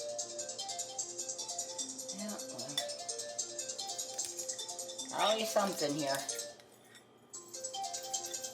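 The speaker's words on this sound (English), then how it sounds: "there goes my phone" A phone ringtone plays in a kitchen while bacon-wrapped pickle spears cook in an air fryer, a faint melodic chime under brief talk, pausing once before resuming.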